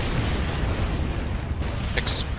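Explosions in the video game Far Cry 3, a sustained, dense rumble of blasts and booms filling the whole stretch, with a brief brighter crackle near the end.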